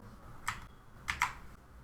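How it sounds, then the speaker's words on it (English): Two or three sharp key clicks sound close on a computer keyboard as Ctrl+A is pressed, isolated taps over a quiet room hum. "simply press the Ctrl+A key together on your keyboard"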